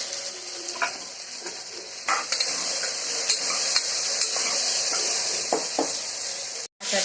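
Onion and tomato sautéing in a pan for masala rice, a steady close sizzle with scattered scraping stirs and light utensil knocks, cut by a brief silent break near the end.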